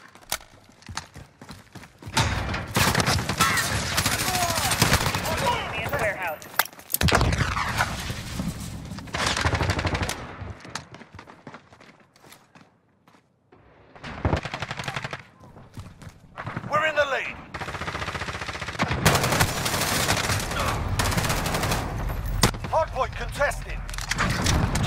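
Gunfire in a Call of Duty Modern Warfare Hardpoint team deathmatch, with loud bursts of shots and dense action noise running almost throughout, broken by a brief quieter stretch midway, while game announcer voices and spoken callouts come and go.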